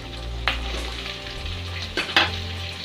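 Chicken frying in a pan with capsicum and green chilli, a steady close sizzle with a few louder bursts of stirring.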